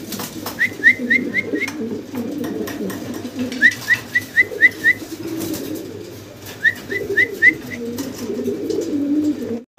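Maltese pigeons coo in low, rolling bursts, joined by several short rising whistles repeated in quick runs, nearby and fairly loud.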